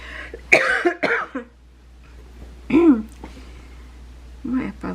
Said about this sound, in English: My apology, the cough.